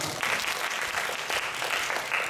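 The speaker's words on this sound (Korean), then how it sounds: "박수 한번 쳐주세요." A church congregation applauds together at a Sunday worship service, producing steady, dense clapping that holds at an even level throughout with no voices on top.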